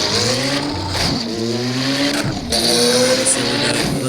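A simulated car engine from an engine sounds app, loud and close, revving up in rising sweeps with brief drops between gear changes, as in normal driving.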